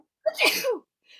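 A single close, sharp sneeze bursts out once in a studio classroom, then fades into quiet.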